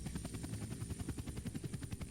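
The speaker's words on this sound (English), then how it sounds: "You once again start to follow the helicopter, but it's just too fast for you to catch" A fast helicopter with a metal frame marked R.P.D. in a Resident Evil setting, its rotor beating in a steady, rhythmic thump that holds a constant level throughout, with no voices.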